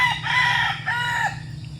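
A young gamecock stag, a late-born bird, crows once in a clear drawn-out call, with a second shorter crow following, close to the microphone over a low steady background hum.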